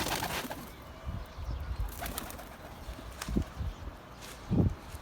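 Pigeons kept by a bird fancier in Adana give a few low, soft coos, with a louder burst near the end, over a busy outdoor background with faint rustling.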